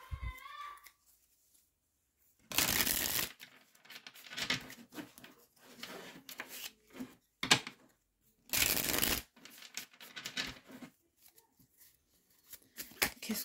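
Tarot cards are shuffled and drawn in bursts of crisp riffling and flicking, with quieter handling and card slaps between them. A voice is faintly heard at moments.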